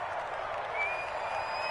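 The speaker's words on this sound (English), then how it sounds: "How about some applause for the defense there?" Crowd applause from a Madden football video game broadcast, a steady wash of clapping and cheering from a stadium crowd after a defensive stop, continuous and even for under two seconds with no talk over it.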